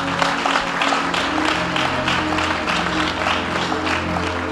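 A church congregation applauding and cheering at a prophetic preaching service, dense, steady clapping from a large crowd with raised voices mixed in, sustained and loud throughout.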